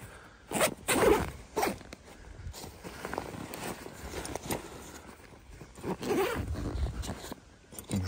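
A zipper is drawn open around the big pocket of a bivouac backpack, loud and close, in several rasping pulls with short pauses between them, followed by fabric rustling.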